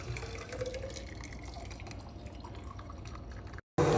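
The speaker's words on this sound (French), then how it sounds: "Ensuite, je remplis d'eau bouillante." Boiling water is poured into a cup or teapot to brew tea, a steady liquid pour and splash that runs close and fairly loud for about three and a half seconds, breaks off briefly, then returns.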